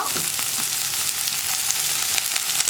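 Green chillies and curry leaves frying in a pan of oil, giving a steady, close, bright sizzle with small crackles throughout and no voice.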